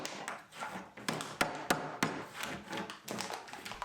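Waste wood is knocked out of driveway gate joints after a series of miter-saw cuts, giving a run of sharp taps and hollow knocks at uneven intervals, several crisp hits standing out over softer scraping and rubbing.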